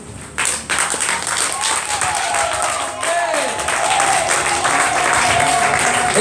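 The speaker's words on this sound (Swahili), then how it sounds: "Simama, shangilia Yesu." A church congregation cheers and applauds loudly, with sustained crowd clapping, shouts and voices rising over a continuous roar that swells toward the end.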